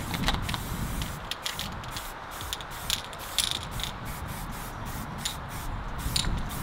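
An aerosol spray paint can hisses in steady bursts, fairly close and continuous, with short rattling breaks in between.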